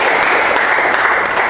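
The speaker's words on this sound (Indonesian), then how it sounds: "Kita beri tepuk tangan dulu untuk Salwa." A classroom audience claps for Salwa, a student, right after her presentation on micronutrients and macronutrients: steady, dense hand-clapping from many people close by, loud and continuous for a brief stretch with no talking.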